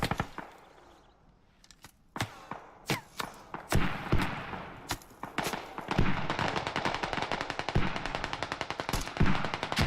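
Airsoft or milsim gunfire in a tactical match, with sharp single shots at first and then rapid bursts that build into sustained firing, fairly close and loud.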